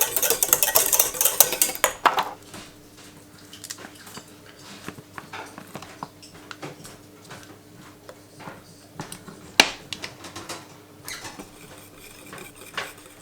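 Pineapple purée is stirred in a bowl, a utensil clinking and scraping against the sides in a busy burst at first, then quieter irregular taps and scrapes, with one louder knock near the end.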